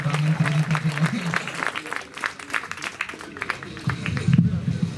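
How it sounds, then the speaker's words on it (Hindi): Audience applause at a Hindi comic poetry gathering in Chakradharpur rises after a request to clap, a dense patter of many hands under a speaking voice, fading before the host continues. "वो किशन लाल जी के लिए मैं चाहता हूँ तालियां बजें।"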